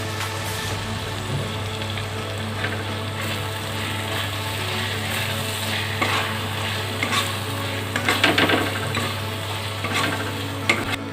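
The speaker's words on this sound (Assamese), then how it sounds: "এইখিনিও 5 মিনিটমান সময় ভাজি ল'ম।" Spices and turmeric fry in oil for a chicken curry, a steady sizzle with occasional stirring scrapes and clinks close by, no voices.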